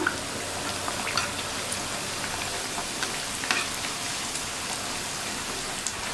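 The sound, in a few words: rava snacks frying in oil on low flame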